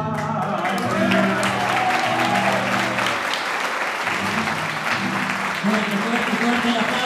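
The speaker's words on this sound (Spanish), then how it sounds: "fuerte el aplauso para estos jóvenes catalanes" Audience applause on a TV variety program for young Catalan performers, steady broadband clapping mixed with music and talk throughout.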